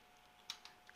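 Several quiet, sharp keystrokes on a computer keyboard while a command is entered at a PC command prompt, spaced irregularly and close by.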